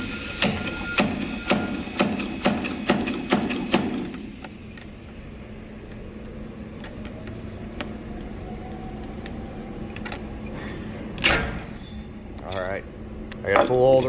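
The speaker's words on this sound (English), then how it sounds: "First and foremost, slide hammer. This is how we pull our bungs." Sharp metallic clanks from a slide hammer pulling bungs out of whiskey barrels, about eight quick strikes in a steady rhythm, followed by quieter handling and a few scattered knocks.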